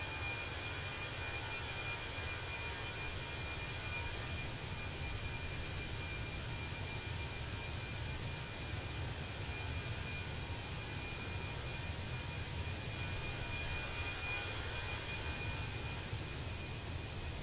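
Fenix A320 Airbus in flight in the game MSFS 2020: a steady, unbroken engine and airflow drone holding at a moderate, even level throughout.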